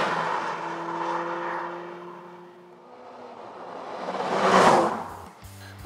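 A 2021 Hurtan Grand Albaycín roadster's four-cylinder engine rising under full throttle toward 7,500 rpm, a steady climbing drone that swells to a loud peak near the end before cutting off sharply.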